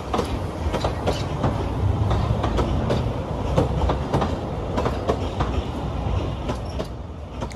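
A narrow gauge steam train rumbles steadily across a viaduct with rhythmic clickety-clack of wheels over the rails, a continuous rolling roar at moderate distance.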